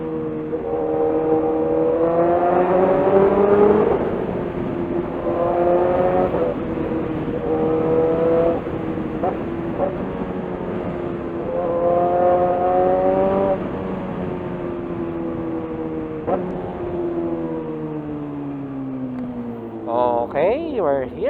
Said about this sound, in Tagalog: Uy, may tricycle dito.